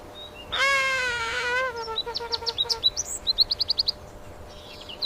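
Bird calls ring out alone: a long wavering whistled note, then a quick series of short chirps and tweets, fairly close with a faint background.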